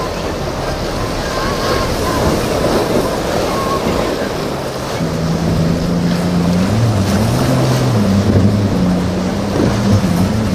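A ship charging through open ocean waves, its engines roaring in a loud continuous rush of water and wind, with a low droning engine tone rising under the surf noise in the second half.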